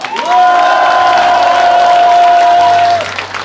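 Loud, sustained applause and cheering from an audience in a concert-hall forum, continuous clapping swelling in and holding for several seconds before easing, with a long held tone running through it.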